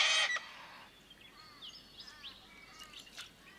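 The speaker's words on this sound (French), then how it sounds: "Le Zostérops, oiseau grégaire au chant mélodieux, vit en bande de plusieurs dizaines d'individus." Silvereyes (Zosterops) call in the morning on Kangaroo Island, a flock of thin, high, twittering chirps and whistles scattered over several seconds, faint to moderate, following a brief louder burst at the start.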